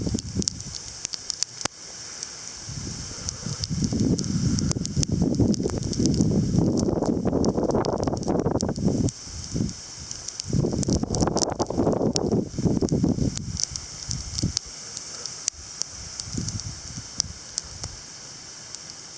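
Heavy graupel pelting down outdoors during a November snow squall, a dense broadband patter and hiss swelling and easing in waves amid gusty wind, loud and close throughout with no speech.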